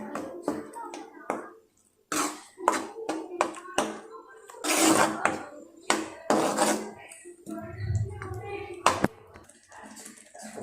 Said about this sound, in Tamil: மசாலாவை நல்லா கிண்டி விடுங்க.